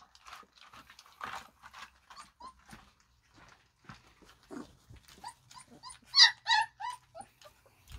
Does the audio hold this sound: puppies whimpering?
yes